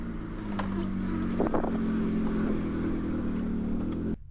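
Failing new aftermarket driver-side CV axle on a 2005 Ford Focus gives a steady, loud droning whir with a few faint clicks and knocks, then cuts off abruptly near the end.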